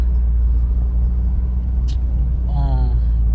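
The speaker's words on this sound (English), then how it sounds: "I just pulled up to the AutoZone" A car idles with a low, steady engine rumble after pulling up in an AutoZone parking lot, with a short faint chirp and a brief rising whine near the end.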